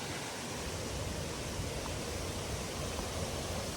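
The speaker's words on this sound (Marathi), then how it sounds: "अतिशय सुंदर आणि मनमोहक हा धबधबा आहे" A small natural waterfall near Gemini Point in Malgund gives off a steady, dense rush of falling water, loud and unbroken throughout.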